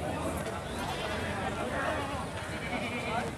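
Goats bleat at a busy livestock market at Okhla Dhobi Ghat, their calls rising over constant crowd chatter and people talking close by.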